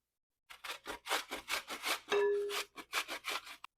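An unpeeled apple being grated for apple cinnamon bread: rhythmic rasping strokes, about a dozen in quick succession, close and clear with no talk.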